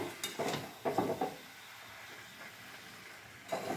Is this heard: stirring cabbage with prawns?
yes